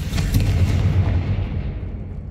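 A Confringo fire-blast spell explodes in Hogwarts Legacy, giving one loud, deep boom that rolls on with a rumbling tail before fading away.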